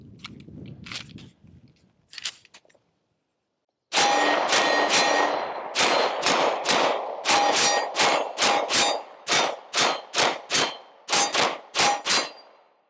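A Dan Wesson DWX pistol fires a long string of loud, closely spaced shots, roughly fifteen cracks in steady rhythm, after a brief stretch of quieter handling and talk.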